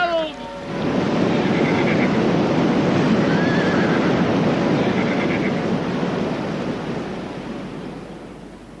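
Horses neigh amid rushing floodwater in a radio drama, a loud whinny opening over a heavy, continuous roar of surging water that slowly fades.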